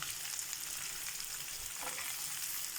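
Ridge gourd pieces fry in a pan with a faint, steady hiss of sizzling oil.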